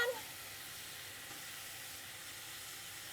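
Green onions dropped into a hot frying pan while cooking chorizo and lentils, giving a steady, fairly faint sizzle and hiss after a brief clatter at the start.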